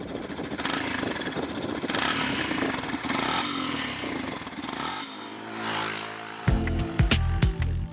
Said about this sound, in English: Yamaha has tuned the exhaust on the FZX to produce a deeper and more peppy sound